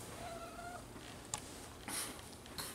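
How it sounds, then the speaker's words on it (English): A house cat gives one short, faint meow near the start in a quiet indoor room. A few small clicks and rustles follow, with no talking. "that's the cat, by the way."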